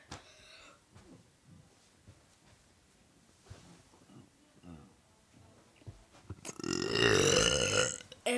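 A long, loud, deep belch rumbles up close near the end, imitating an old man's burp, after stretches of soft breathing and quiet talk.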